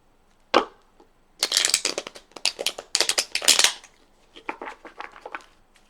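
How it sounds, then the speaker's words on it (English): A deck of tarot cards being shuffled up close in several quick riffling bursts, each one crisp and papery with short gaps in between, and no voice over it. "There's one more good shuffle here."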